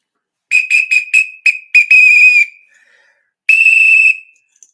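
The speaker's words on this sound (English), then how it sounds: "let's blow the whistle to that" A loud, shrill whistle blows in a rapid series of short blasts, followed by a longer sustained blow, alone with no talking.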